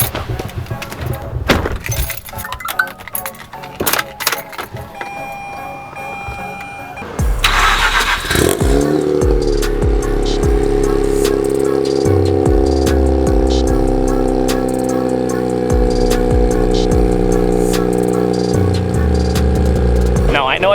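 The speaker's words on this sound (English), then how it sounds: "I just started the car, but this idle is insane. It's like this really loud, deep grumble now." A rotary-engined car with a new exhaust goes through a cold start. After clicks and cranking, it fires and settles into a loud, deep, steady grumbling idle that continues with a few sharp knocks over it.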